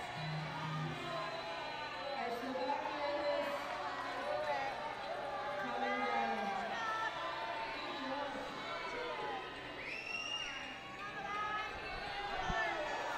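Crowd at a youth lead climbing competition grows louder, a steady roar of voices and cheering filling the space throughout, with a commentator talking over it.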